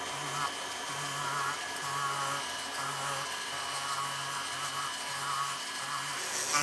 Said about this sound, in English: I had a 200 grit on my rotary tool there